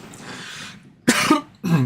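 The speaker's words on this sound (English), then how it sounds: "Still coughing because I still inhaled water." A person coughing after inhaling water, two harsh close coughs following a breathy wheeze, alone without talk.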